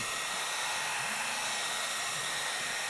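Steady, close whoosh of hot air blowing continuously from a heat gun onto a Jeep Wrangler's stickers, a broad airy hiss with no pauses or voices.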